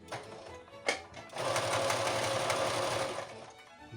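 Sewing machine stitching a zipper seam, a short burst of stitching after a couple of soft clicks, then a steady fast whirring run of about two seconds before slowing to a stop, close and alone.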